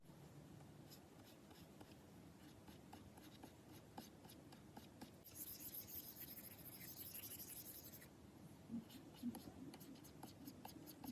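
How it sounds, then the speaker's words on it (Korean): A stylus scratches and scrapes across the anti-glare screen of an XP-PEN Artist Pro 16 pen display in quick, close, soft strokes, with a brief brighter rasp partway through and faint room noise underneath. "펜으로 액정을 긁어봤을 때 소음은 대충 이 정도예요"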